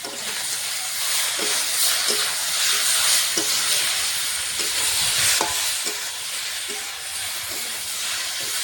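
Broccoli and potato frying in a pan with green chili and ginger paste, giving a steady loud sizzling hiss with occasional soft utensil taps throughout.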